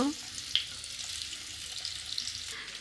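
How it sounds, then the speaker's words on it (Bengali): Cauliflower florets frying in hot oil in a wok, a continuous bright sizzle and crackle that holds steady throughout, close and moderately loud, with a small spatter pop early on. "তেলটা গরম হয়ে গেছে ফুলকপিগুলো দিয়ে দিই এটা এবার ভেজে নেব"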